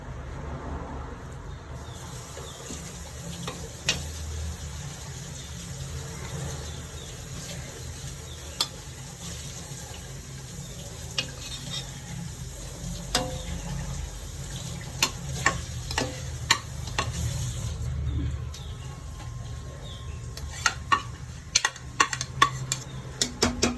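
Prawns and cooked rice for a prawn biryani frying in a pan, with a low steady sizzle and occasional sharp scrapes and clicks from stirring. The sound is close by and builds busier toward the end, with no talk.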